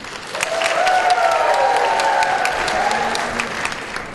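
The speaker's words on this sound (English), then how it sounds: "Give them the round of applause." A church congregation applauds and cheers during a worship service, sustained loud clapping under a rising shout and whoop from the crowd that trails off slowly.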